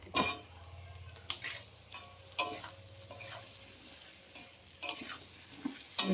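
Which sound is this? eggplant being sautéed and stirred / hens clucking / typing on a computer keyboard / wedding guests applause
eggplant being sautéed and stirred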